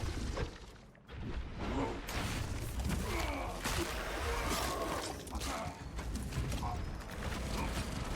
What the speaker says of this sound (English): Inserting fresh magazine.